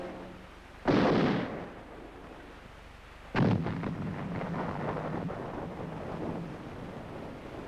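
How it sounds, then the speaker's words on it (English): Two sharp rifle shots ring out during Iranian army firing exercises overseen by American advisors, spaced a few seconds apart, each with an echoing decay over outdoor wind noise. "Regular firing exercises under the experienced eyes of American advisors help them develop the kind of deadly accuracy they would need in combat."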